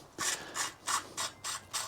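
A threaded sleeve on an electric bike part is turned out using two nuts tightened together, giving six rhythmic ratcheting, scraping bursts at close range, evenly spaced with short pauses between them.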